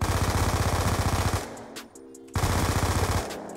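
Rapid automatic gunfire in Black Ops 2, close and loud, a sustained burst that breaks off briefly and then resumes in a second burst.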